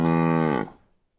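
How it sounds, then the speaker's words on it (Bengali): A bull gives a single long, low moo that holds steady, then drops off and fades out, heard alone and close. "ষাঁড়"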